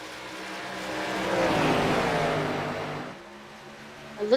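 Race cars in a video game race at Rockingham Speedway, their engines rising to a loud, buzzing roar as they pass close by and then fading, with a short sharp noise at the end.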